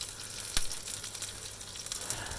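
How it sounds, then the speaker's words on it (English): Scallops fry in butter in a pan on a small stove, a soft, steady sizzle and crackle with one sharp pop, close but fairly quiet. "I'm just going to heat up some butter in a pan, and I'm going to cook those scallops."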